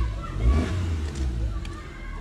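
A Maruti Suzuki Baleno decorated as a wedding car idles with a steady, smooth low engine hum close by, lasting about two seconds with slight swells and no talk.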